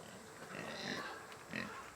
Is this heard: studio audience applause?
no